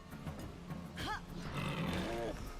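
A boar in Wartales gives a few low grunts and a brief squealing, wavering cry as it is struck, mid-level in loudness over a murky game background.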